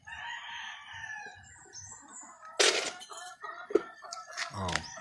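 A rooster crows loudly and nearby on a morning street, a drawn-out call followed by a shorter second crow, over quiet background chatter and faint bird sounds.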